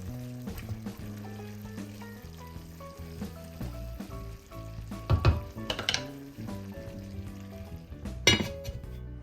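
Pot of red cabbage with apples and chestnuts cooking on low heat, giving a soft, continuous sizzle with a few brief clinks and stirring scrapes of utensils against the pan, fairly faint and with no one talking.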